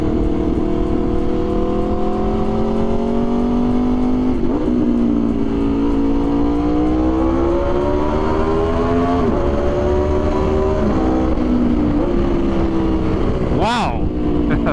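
Aprilia RSV4 motorcycle fitted with a Leo Vince exhaust riding through a tunnel, a loud echoing engine note rising and falling through gear changes, with a sharp rev flare near the end.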